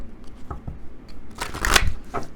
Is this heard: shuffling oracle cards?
yes